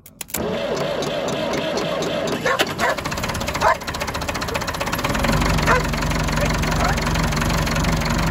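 A steady diesel tractor engine idles close by with a low, continuous rumble and knocking, joined by some brief clanks and a dog barking in places.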